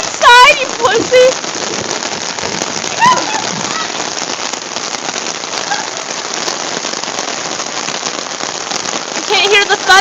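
Rain drums steadily on an umbrella during a thunderstorm, a close, dense patter with heavier drop bursts throughout, while people talk excitedly underneath.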